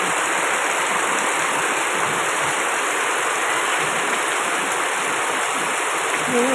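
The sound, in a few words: heavy rain pouring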